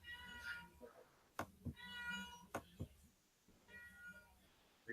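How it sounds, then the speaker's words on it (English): A house cat meows several times in short tonal calls, moderately close, with a voice talking faintly in between and some background hum. "I can hear your cat."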